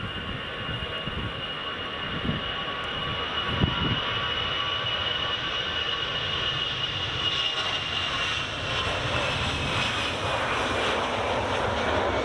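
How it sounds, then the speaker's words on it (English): EasyJet jet airliner taking off at Edinburgh Airport, a sustained roaring engine rumble with rising broadband jet noise, heard from a distance and alone, without talk. "EasyJet up and away."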